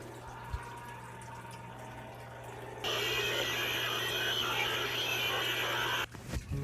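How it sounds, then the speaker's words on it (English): Rush, the monster in the Roblox game Doors, approaches as a low hum suddenly swells into a loud, harsh, roaring rush of noise that holds for several seconds before cutting off abruptly. "Rush will make a sound like this."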